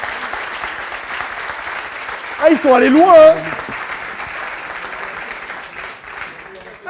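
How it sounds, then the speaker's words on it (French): Applause from the audience at an NBA preview evening, a steady patter of clapping throughout while someone speaks over it briefly in the middle. "On peut les applaudir, s'il vous plaît, quand même,"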